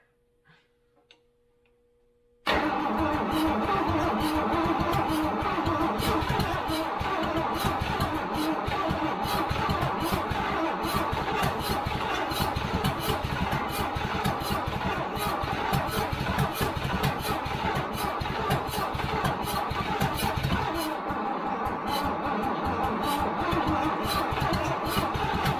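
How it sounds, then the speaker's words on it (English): A seized engine in a Toyota Land Cruiser FJ40 cranks and catches after a brief quiet start, running roughly and loudly for over twenty seconds with dense rapid ticking pops and uneven firing, no talk over it. "That's quite the backfire though."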